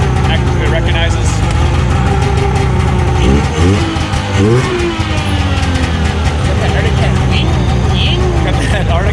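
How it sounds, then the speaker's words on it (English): Arctic Cat 340 snowmobile with a tuned exhaust, its engine giving a loud, steady, high whine that rises and falls slightly in pitch, close by and continuous throughout. "Got that Arctic Cat whine"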